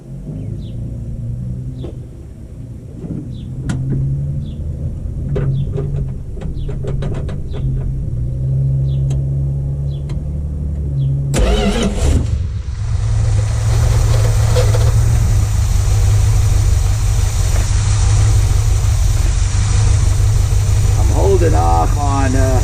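A car engine starts with a burst, then settles into a steady, loud idle rumble that continues to the end, with some clattering earlier.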